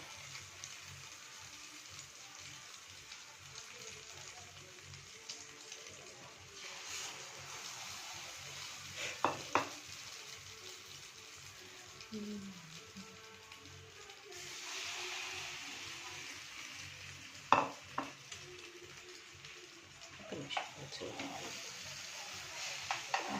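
Bread slices dipped for French toast (Bombay toast) fry in a pan with a soft, steady sizzle and occasional spatters, heard under a voice talking throughout.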